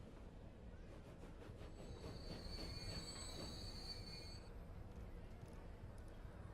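A train running in the Transport Fever game: a steady, dense rumble of rolling wheels with high, thin wheel squeals for several seconds before they fade, continuous throughout.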